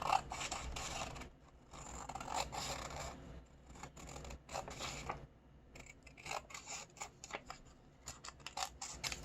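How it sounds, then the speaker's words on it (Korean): Scissors snip through folded colored paper for an origami minicar, a close run of crisp cuts and rasping paper rustles that repeat unevenly without any talking. "가위나 칼로 이 부분을 좀 잘라줄게요"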